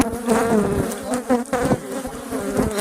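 Agitated honeybees buzz densely around a beekeeper at an apiary, with many overlapping wingbeat whines rising and falling close by, loud and continuous.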